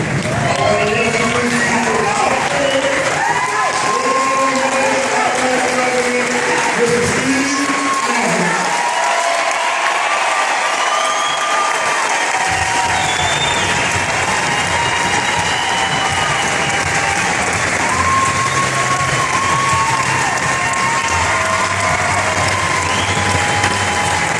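Crowd at a private event cheering and applauding as people rise from their seats, loud continuous clapping and shouting with a voice and music running through.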